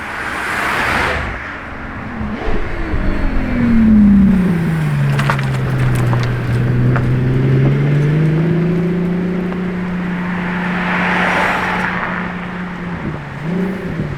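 A Pagani Utopia Roadster drives along a road, its engine note climbing, dipping and holding steady as it moves nearby for several seconds before fading away.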